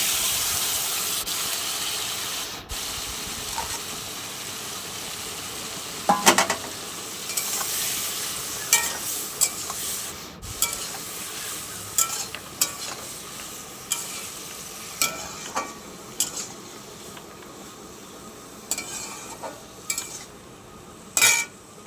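Ash gourd pieces cooking with prawns in a hot pan, a continuous sizzle and hiss with repeated scraping, clinking stirs of a utensil that grow more frequent toward the end.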